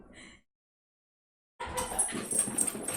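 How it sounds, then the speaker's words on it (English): An excited dog makes quick breathy panting and snuffling sounds nearby, starting with a short burst, falling silent, then returning as a continuous rapid huffing. "my dog's going wild"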